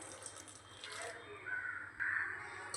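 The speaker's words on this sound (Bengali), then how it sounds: "মিক্সিং বোলটা ধুয়ে আমি জলও দিয়ে দিচ্ছি একটু" A brief gush of water runs into a rinsed mixing bowl, a short faucet-like pour that swells in two bursts, close and moderately loud, with faint background noise.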